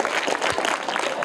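Brief burst of loud, dense clapping from an audience of children rewarding a correct quiz answer, with no talk over it.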